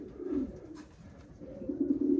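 A two-month-old young pigeon coos close by in a loft, two low throaty coos separated by a short pause, with no talk.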